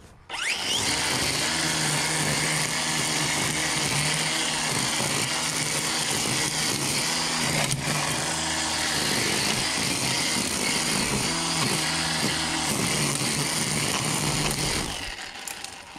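A DeWalt DCST922B 20V MAX cordless string trimmer with a 14-inch head cuts along an edge near a house, a loud steady whirring drone that runs nonstop for about fifteen seconds before winding down.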